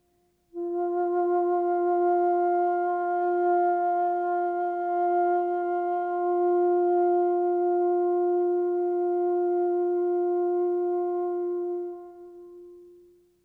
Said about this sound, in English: Now let me try another tone and see if you feel it in the same place.